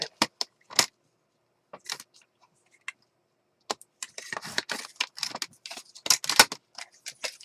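Scissors snip off excess white paper while crafting Valentine journal cards, giving sharp, close snips in short bursts with pauses, then a denser stretch of rustling cuts toward the end.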